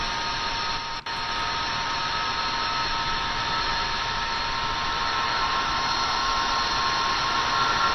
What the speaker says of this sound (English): We're going to go ahead and fire the engine.